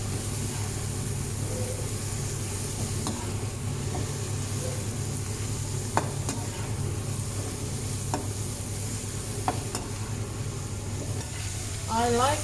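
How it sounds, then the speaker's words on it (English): Potatoes frying with turmeric, cinnamon and Maldive fish in a pan, giving a steady, moderate sizzle with occasional sharp stirring clicks and scrapes, close-up, with a brief voice at the end. "So fry them for about another minute or so."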